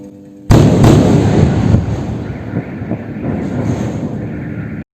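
Night bombing in Gaza's Qadisiyah: a sudden heavy blast followed by a long rumbling roll of explosions and distant booms, buffeted by wind noise on the microphone.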